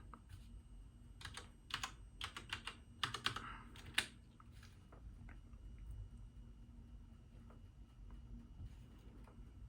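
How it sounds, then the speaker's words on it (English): A password goes in on a computer keyboard as a quick flurry of close keystrokes for about three seconds, then near silence. "let me just type my password"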